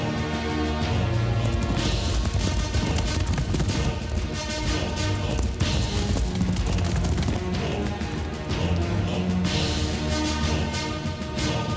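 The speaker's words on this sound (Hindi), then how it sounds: "दुश्मन के सैनिक बंदूकों से गोली चला रहे थे।" Battle-scene gunfire in a Hindi film, with dense, continuous loud crashes, booms and volleys layered over music throughout.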